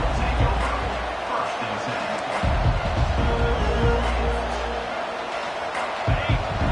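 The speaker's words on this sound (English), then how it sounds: "listen to the roar of this crowd" Football stadium crowd roaring continuously during a college football playoff game as the defense takes the field, a broad sustained wash of noise with swells and low rumbling, no clear talk over it.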